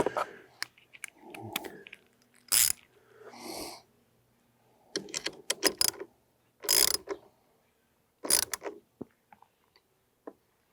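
Socket ratchet wrench clicking in short bursts while a motorcycle mirror is refitted, mechanical ratchet ticks and creaks spread across the clip with brief gaps of quiet between them.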